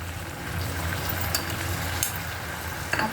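Black chili sauce hits a hot pan of soybean chilli with capsicum and sizzles loudly and continuously, with a broad, hissing fry and a few sharper crackles and stirring scrapes.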